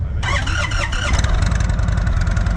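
An Indian motorcycle engine turns over and catches into a steady, throbbing idle, close and loud, with no talking over it.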